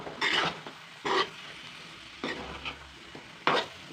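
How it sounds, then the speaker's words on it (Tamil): A spoon stirs chicken roast frying in a pan, making four separate scraping, sizzling strokes spaced about a second apart, loud and close, with a softer sizzle between them. "இப்போ நான் இன்னும் ஒரு வாட்டி நல்லா கிண்டி வச்சு இன்னும் ஒரு 5 நிமிஷம் நான் வேக விட போகிறேன்."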